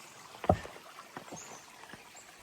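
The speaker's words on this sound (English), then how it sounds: "It's good water flowing out of the beaver pond" Water flows out of a beaver pond on the Appalachian Trail after recent rain, a faint, close trickle with a few small splashes, one sharper splash near the start.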